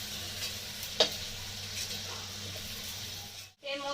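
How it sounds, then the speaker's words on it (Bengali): Small shrimp frying in mustard oil in a home kitchen, a steady soft sizzle with a low hum beneath, one sharp clink near the second mark and a brief dropout near the end. "তোমার চিংড়ি মাছটা ভাজা হয়ে এসছে, এবার নামিয়ে নেব।"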